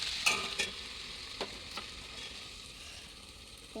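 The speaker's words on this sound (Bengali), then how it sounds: "এখন রান্না হচ্ছে" Food frying in a pan at home, a soft steady sizzle with a few brief brighter crackles and stirring clicks near the start, fairly quiet with no talk.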